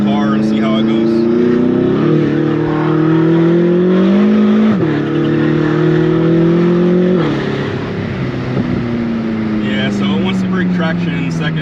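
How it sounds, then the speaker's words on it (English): A tuned BMW M5 accelerating hard from a stop, its engine note climbing loudly through several gears with brief dips at each shift, sustained and close inside the car, ending in a steady high-speed drone. "So let's do a quick pull in the car and see how it goes."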